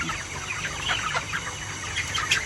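A flock of chickens clucking and murmuring continuously at a moderate distance, with occasional sharper calls rising above the steady barnyard chatter.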